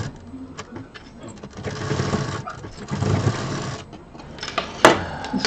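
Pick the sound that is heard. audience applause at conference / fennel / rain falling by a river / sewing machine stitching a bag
sewing machine stitching a bag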